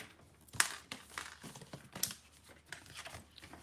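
A blade slicing through paper while making a small jam jar holder, quiet close scraping and crinkling strokes with a couple of sharper crisp cuts, heard alone at low level.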